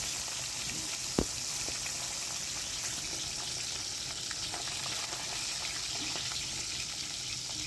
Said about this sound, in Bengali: নুন হলুদ মাখিয়ে রেখেছিলাম, তো মাছটা এবার ভেজে নিচ্ছি।